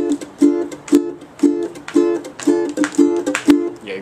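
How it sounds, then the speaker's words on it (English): A guitar strummed in a steady rhythm, with a bright chord struck on each downbeat and the upbeats muted into short percussive chucks, played alone and up close as part of a song lesson. "you're going to be muting the upbeats, so that it has this rhythmic feel to it."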